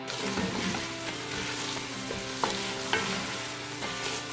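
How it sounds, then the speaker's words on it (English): Diced onion, carrot and celery sauté in a pot for chicken and dumpling soup, a steady dense sizzle with occasional spoon scrapes and knocks as they are stirred, no talking. "we're just gonna cook and stir this for 2 to 3 minutes, just until those vegetables begin to soften"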